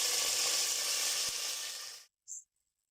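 Mint leaves with cinnamon, cloves and cardamom sizzle loudly in hot oil for chicken biryani, a steady bright crackle for about two seconds that cuts off abruptly, followed by a brief faint hiss.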